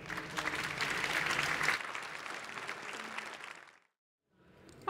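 An audience at a policy forum on 5G and smart cities applauds the mayor. Brisk, full clapping carries on for a few seconds, then thins and fades into near silence before a faint stir at the end.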